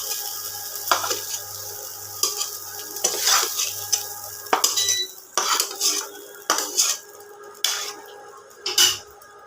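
Okra cooking in a pan with sharp metal spoon scrapes and clatters against the vessel at irregular intervals over a low background hum, near and fairly loud.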